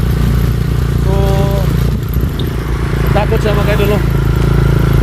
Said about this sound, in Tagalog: Magsakay sa motor.